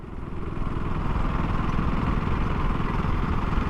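A 2024 KTM Duke 250 single-cylinder engine runs with a steady, throbbing pulse while riding in fourth gear, loud and close with a faint mechanical clatter.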